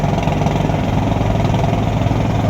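The engine of a water-selling boat on the Tha Chin River runs at a steady, close, loud idle, a continuous low droning rumble with no talk over it.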